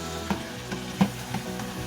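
Sliced potatoes dropping into sizzling ground pork afritada, a steady close fry hiss with a few soft bumps and one clearer thud as pieces land and are stirred.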